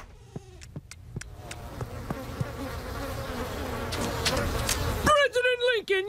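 A cartoon swarm of bees settled on a girl's face like a beard buzzes as a continuous droning hum that swells louder toward the end, with brief clicks and a voice speaking over it at the close.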